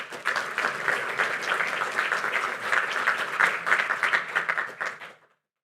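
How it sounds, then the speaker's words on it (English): Attendees at an interfaith Ramadan iftar gathering at a mosque applaud to welcome a speaker, a clear, lively round of clapping that builds, holds and then quickly dies away. "Welcome him with a round of applause."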